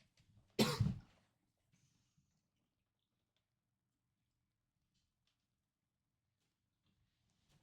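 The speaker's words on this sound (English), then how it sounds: "This cough won't fucking leave." A single sharp, close cough bursts out near the start, followed by long near-silence and a faint sound at the very end.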